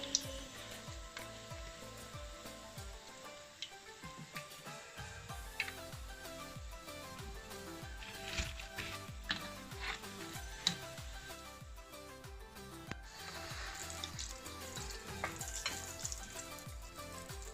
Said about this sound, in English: I'm still frying some of the akara.